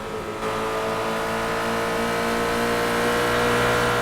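A Ferrari race car in the iRacing video game accelerates hard out of a corner, its engine a continuous rising high-pitched whine held loud and close for several seconds.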